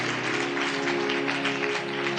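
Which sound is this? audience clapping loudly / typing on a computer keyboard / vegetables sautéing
audience clapping loudly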